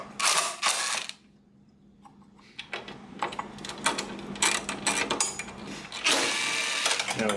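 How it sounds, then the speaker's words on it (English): A ratchet or power driver undoes the 10 mm battery hold-down bolts on a 2020 Cadillac XT6 in several bursts of close, loud whirring and clicking, separated by brief quiet pauses. "the first thing we're going to do is undo these 10 millimeter 1, 2, and 3 here on these hold downs"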